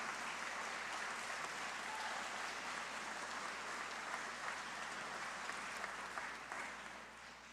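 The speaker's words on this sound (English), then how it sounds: "Let's give them one more round of applause, everybody." An audience at a student art contest award ceremony applauds in a sustained, even roar of clapping that softens slightly at the close.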